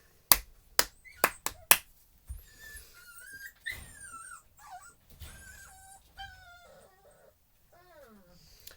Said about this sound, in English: Man, my dogs are ornery.